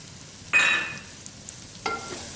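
Chopped bell pepper hits hot oil with vegetables for chicken and vegetable macaroni, a sharp sizzling burst followed by a fading fry and a second smaller stirring sizzle, close and clear with no talk.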